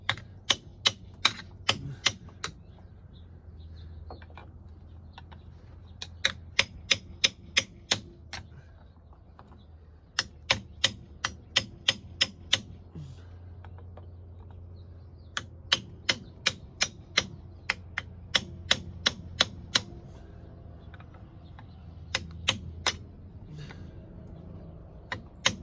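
A hammer strikes a flathead screwdriver during a Ford F-350 Dana 60 front axle rebuild, sounding as sharp metallic taps in quick bursts of several blows, separated by pauses, close and fairly quiet against a faint background.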